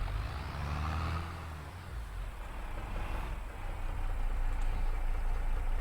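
A tractor engine idles steadily in Farming Simulator, a low mechanical drone that holds even and grows slightly louder toward the end.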